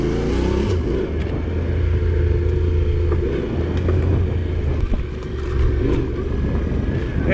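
A Yamaha Ténéré 700 motorcycle of about 72 horsepower runs along a dirt trail, its engine giving a loud, continuous low rumble that swells and eases slightly as it rides.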